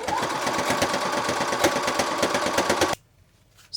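A sewing machine stitches steadily around the edge of a fabric bowl cozy, its needle a fast, even mechanical chatter that runs close and loud for about three seconds, then stops abruptly into quiet.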